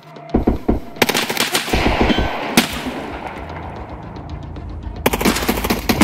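Automatic gunfire erupts in Escape from Tarkov, with sharp, loud bursts of rapid shots cracking close by, separated by brief gaps and echoing tails, with no talking.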